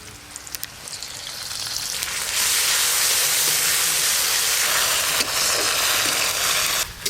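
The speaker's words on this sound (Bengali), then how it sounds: "পেঁয়াজের পাপড়িগুলো কিন্তু একেবারে গলিয়ে নিলে হবে না, একটু হালকা করে ভেজে নেব।" Onion petals fry lightly in hot oil dusted with turmeric, giving a loud, steady sizzle and hiss that swells within the first few seconds and then holds close and continuous, with no voices.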